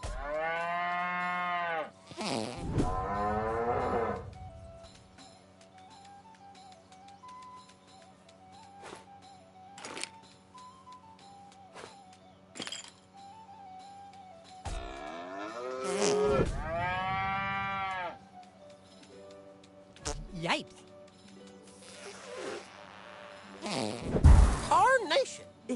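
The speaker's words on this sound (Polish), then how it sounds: "Będę walczył z krowami mówiącymi po niemiecku." Cartoon cows in a South Park video game on PS5 let out several loud, drawn-out moos in bursts, separated by stretches of quiet in-game music, with someone briefly speaking and laughing.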